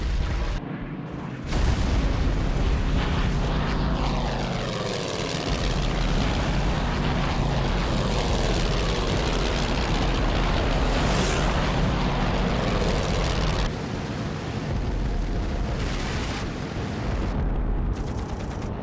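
A WWII fighter plane's engine roars loudly and continuously as it throttles up and climbs, with a dense, rumbling drone that swells and holds for many seconds.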